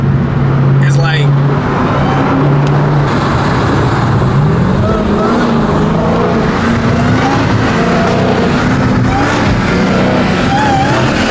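Supercharged car engine pulling hard while driving at night, a loud continuous drone whose pitch climbs through the gears, with occupants talking over it.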